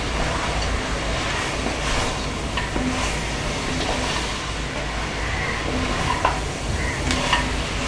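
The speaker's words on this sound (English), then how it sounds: "Okay, time to add the onion paste." Onion paste cooks with mutton in a pan, giving a dense, continuous sizzle with occasional stirring scrapes, loud and steady from start to finish.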